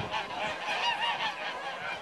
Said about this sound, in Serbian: Pa to su guskovi najkvalitetniji bez poraza do sad